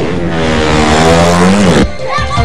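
Motorcycles in an illegal street race in Muntinlupa roar loudly and close for about two seconds, then the engine noise drops off abruptly into a quieter background.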